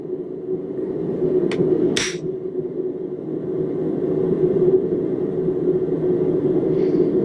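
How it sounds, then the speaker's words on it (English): Two sharp metallic hammer strikes ring out in quick succession over a constant low rumble while shaping a round bottle opener, followed by only the steady background hum. "we're gonna hammer back on it"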